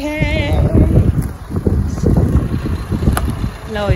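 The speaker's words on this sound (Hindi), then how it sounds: "क्या हवा चल रही है।" Natural wind gusting outdoors on a hill-station trip to Kasauli, a steady broadband rush buffeting the microphone throughout, with voices talking over it.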